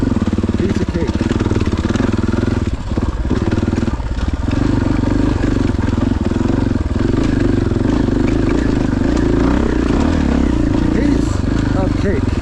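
A 2025 KTM 500 motorcycle climbs a dirt trail near Crested Butte, its mid-pitched engine droning and revving steadily up close, with clattering over rough ground.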